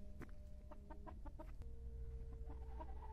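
A rooster clucks inside a coop in a quick series of short, soft calls, then falls into lower murmurs over a faint steady hum.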